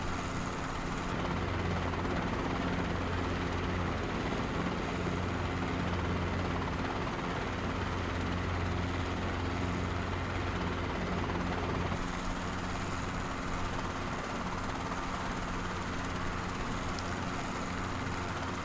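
Robinson R22 helicopter in flight in Microsoft Flight Simulator 2024, a steady, dense rotor and engine drone holding at constant loudness throughout, with a slight shift in tone partway through and no voices.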